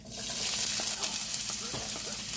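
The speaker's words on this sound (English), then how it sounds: "adding some onions and garlic, chopped garlic, into my oil that's been preheated" Chopped onions and garlic hitting preheated oil in a pot, a steady close sizzle with light stirring clatter, no talk.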